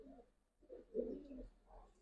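Giribaz pigeons coo in soft, low, throaty bursts, a few short calls close by against a quiet background.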